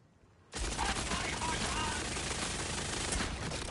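Continuous dense gunfire in Borderlands 4 starts abruptly and roars without pause for several seconds, loud and close.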